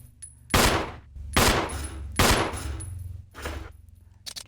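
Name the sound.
gunfire in the video game Resident Evil (2002)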